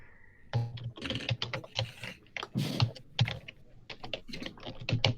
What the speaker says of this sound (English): More typing from the DM. All the typing.